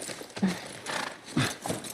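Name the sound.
horse in The Last of Us Part I video game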